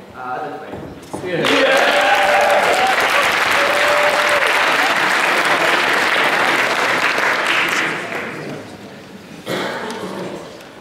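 Sustained audience applause fills a debating hall at a Philosophical Society debate on Scientology, loud and dense for several seconds before fading, with a brief renewed burst near the end and a voice heard at the start.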